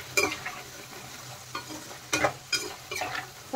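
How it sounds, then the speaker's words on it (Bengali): Potato french fries crackle and sizzle steadily in hot oil while a utensil stirs and turns them, with several sharp, close stirring scrapes rising above the constant frying hiss. "উল্টে পাল্টে ভালো করে ফ্রেঞ্চ ফ্রাইগুলো ভেজে নিতে হবে, একদম ক্রিস্পি করে ভেজে নিতে হবে।"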